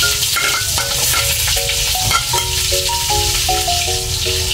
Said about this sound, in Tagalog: Magigisa tayo ng bawang sibuyas guys.